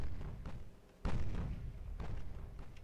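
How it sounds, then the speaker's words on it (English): A heavy thud from an 18-inch battleship gun firing in Ultimate Admiral: Dreadnoughts, one strong low boom followed by a rumbling tail and softer thumps. "After 80 seconds, she fired."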